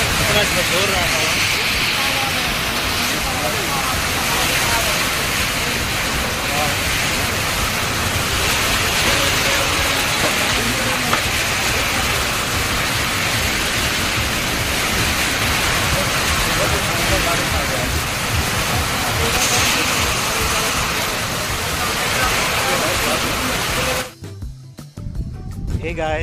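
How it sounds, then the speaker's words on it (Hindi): Heavy monsoon rain with strong, storm-like gusting wind, a dense continuous roar of large drops held loud and steady for most of the stretch before cutting out abruptly near the end. "इतना जमकर बारिश हो रहा है, बड़ा बड़ा बूंद आ रहा है"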